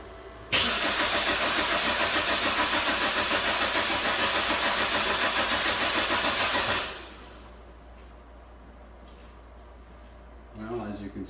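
A 2009 Hyundai Sonata engine cranks steadily without firing, a loud, continuous rhythmic churning of the starter that runs for about six seconds and then cuts off, leaving quiet room tone with a brief faint noise at the end.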